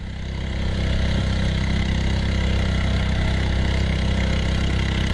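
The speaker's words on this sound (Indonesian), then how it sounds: "Untuk menempuhnya, kita menggunakan sampan motor pemirsa." A motorized sampan canoe engine chugs steadily on a fast-flowing river among rocks, a close, continuous droning hum that swells slightly in the first second and then holds even.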